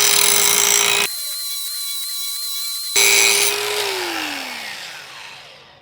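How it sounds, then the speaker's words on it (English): A power tool sharpening the edge of a basalt hull axe, a loud steady motor whine that drops out briefly, returns, then spins down with a falling pitch, close up and without speech. "Now let's get this edge sharpened up here."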